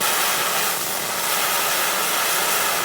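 An oxy-acetylene cutting torch flame with a sharp tip, a loud, steady broadband hiss and roar close by, continuous with no talking.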